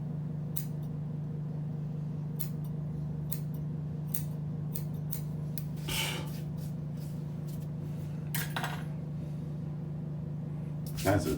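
Scissors cutting hair snip in short, quick bursts, several crisp cuts spaced irregularly over a low steady hum.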